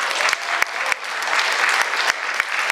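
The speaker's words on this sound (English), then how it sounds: "So a big round of applause to you." Audience applause at a community mural project event, a dense steady clapping from a crowd held at even loudness throughout with a few sharper individual claps standing out.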